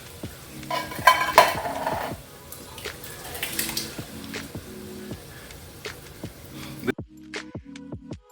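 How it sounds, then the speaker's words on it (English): Cheap tomato sauce goes into a hot pan for chicken parmesan, bringing steady sizzling and frying with a stirring utensil scraping and clinking against the pan. The noise continues throughout and is fairly close, with a quiet, sparser stretch at the end. "I'm gonna go in with a cheap tomato sauce."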